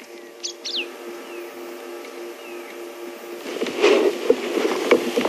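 A few short, sharp calls from a Kurrichane thrush ring out early over a steady background hum on a safari drive, with faint rustling and clicks afterward.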